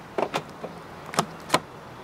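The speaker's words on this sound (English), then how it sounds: "To lock the car, press the ribbed area on any of the four door handles." A 2021 BMW X7 xDrive40i locks after a touch on its door handle, giving a few short, quiet clicks and soft mechanical thunks close by in an otherwise still setting.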